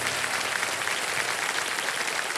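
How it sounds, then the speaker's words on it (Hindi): Studio audience applause on the Hindi TV quiz show Kaun Banega Crorepati, a dense, steady burst of many hands clapping without pause, close and fairly loud. "जोरदार तालियां बज जाती हैं जल्दी से।"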